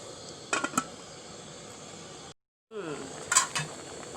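A lid is set onto a pot of Thai beef green curry with eggplant, giving a couple of quick metallic clinks and clatters, then a brief silence followed by another cluster of clanks, close and moderately loud.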